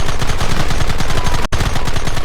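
Rapid automatic gunfire in a Red Dead Redemption shootout hammers out in a dense, loud, continuous burst, broken only by a split-second gap midway.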